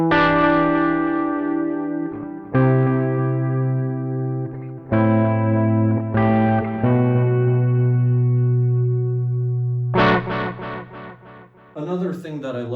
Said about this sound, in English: what I do use on my clean tone a lot is the delay function